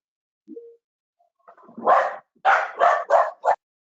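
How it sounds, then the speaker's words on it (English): A dog in a meeting room gives a short whimper, then a run of four or five loud, close barks in quick succession, with no talk over them. "That would be my dog, who's not supposed to be here in the room right now."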